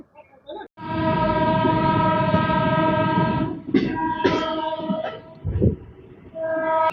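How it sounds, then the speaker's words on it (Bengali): Hool Express passenger train pulling out of Panagarh station, opening with a long, loud sustained horn blast, then rumbling wagons and shorter horn toots, with another horn rising at the end. "আমাদের ট্রেন ছেড়ে দিল পানাগড়"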